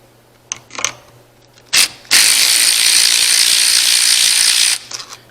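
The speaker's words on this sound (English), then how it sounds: "I'll go ahead and loosen these 4 bolts. They take an 11mm deep well socket to get these 4 off." A ratchet fitted with an 11mm deep well socket loosens turbo bolts on an old beater truck during a turbo rebuild, giving a few short clicks and then a long, steady, loud pawl-clicking run of several seconds, with more brief clicks after.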